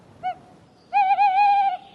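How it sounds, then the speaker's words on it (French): A forest bird gives a hooting, cooing call: one short note, then a longer wavering one after a pause, clear and fairly close in a quiet setting. "De nombreux oiseaux fréquentent la forêt"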